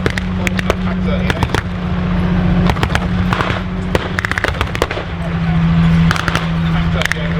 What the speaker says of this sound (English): US troops are now dropping mortar rounds down around Pack 38.